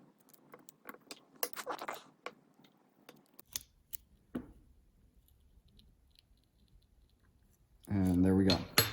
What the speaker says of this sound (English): Okay, I got the wrench, and then we just start cranking it down.